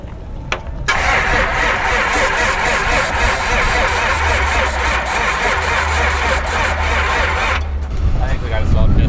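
A 1000hp Cummins diesel truck engine with a solid, stuck piston cranks over slowly and steadily for several seconds, loud and close, then stops.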